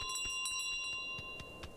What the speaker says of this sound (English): A miniature golden bell.